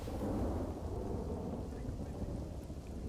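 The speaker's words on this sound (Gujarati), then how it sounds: "જિલ્લાના મોટાભાગના વિસ્તારોમાં વરસાદ ખાબક્યો।" Heavy monsoon rain falls steadily across a rural district, with a low, rolling thunder rumble beneath the dense patter. The sound is distant and fairly quiet, and no one speaks over it.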